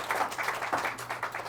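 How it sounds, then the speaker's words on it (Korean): An audience at a business talk claps for the shop owners, a steady wash of many hands with brief swells, moderately loud and with no voices over it. "우리 기본에 충실하고 계신 우리 사장님들 위해서 박수 한번 드릴까요?"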